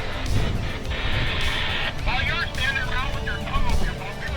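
A drifting car rolls along a road on a trip through Alaska and Colorado, its steady rumble and road noise heard up close with people talking over it.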